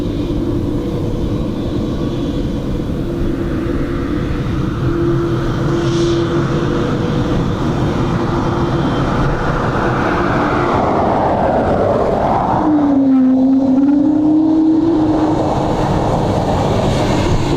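A Qatar Airways flight from Doha lands on runway 28 left at Dublin Airport: a steady, continuous jet roar, with a rising and then falling engine whine as the aircraft passes.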